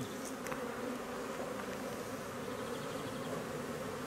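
Honeybees hum steadily around a hive during a spring inspection, a continuous close buzz with a few individual bees passing near, no voices over it.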